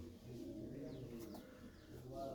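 Pigeons coo softly and steadily in a loft coop where chicks are being raised, with low, rolling calls overlapping continuously and no voices.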